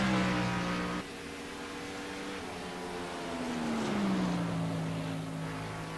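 Stock race cars lapping Darlington Raceway, a steady engine drone with a pass that swells and drops in pitch, heard at moderate distance with no talking.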